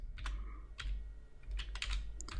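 Keys clacking on a computer keyboard as a git command is typed, a few quick close keystrokes in short clusters over a faint low hum, with no talking.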